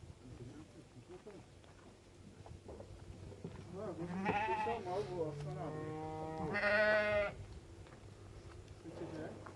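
Akkaraman sheep in a village flock give several drawn-out bleats, two of them loud and close, over a quiet outdoor background.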